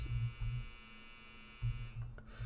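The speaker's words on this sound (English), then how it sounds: "sorry if you heard that that buzzer sound, my dryer is done" A clothes dryer's finished buzzer sounds in a home, a low droning buzz in two bursts separated by a short pause, fairly loud with a steady hum between.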